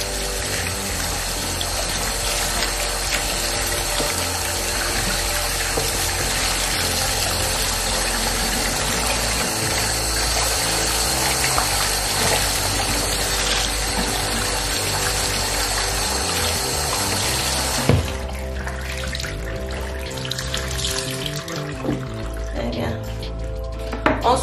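A kitchen tap runs steadily while dishes are rinsed by hand at home, a loud continuous rush that stops abruptly near the end, leaving faint clatter, with someone speaking over it at times.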